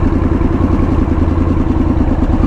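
A new sport motorcycle fitted with a Two Brothers aftermarket exhaust rumbles loudly and close, a deep, throbbing pulse with a rapid, even beat and no talk.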